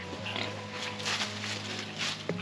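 A Corsican pig, a free-roaming breed with a black or greyish coat, grunts and snorts in a few short, moderately close bursts over faint outdoor background noise.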